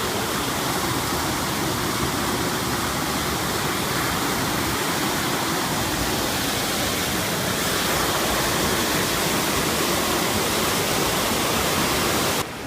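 Loud, steady rush of water at the Basin in Franconia Notch, a broad roaring torrent that fills the whole clip without pause, close and alone, with no voices over it.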